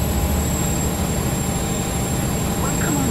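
A Class 43 Stepford Express train runs in a Roblox railway game, giving a steady rolling rumble with a thin high tonal whine held constant throughout.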